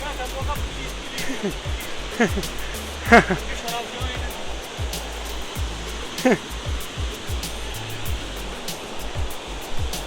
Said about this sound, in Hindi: तो पीछे वाटरफॉल बिल्कुल हिडन।